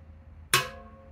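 A single hand strike on the bell of a bass trombone gives a dull, short ring that fades quickly with little resonance, sounding alone and close.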